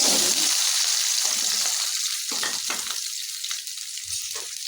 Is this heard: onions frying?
yes